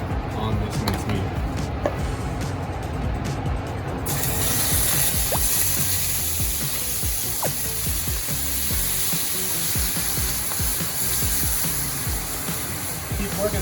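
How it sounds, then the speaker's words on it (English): Minced meat sizzles and spits in olive oil in a very hot pan, a loud, steady frying hiss with scraping stirs, while a person talks over it. "This is a ripping hot pan, so we're gonna get some really nice color on this minced meat."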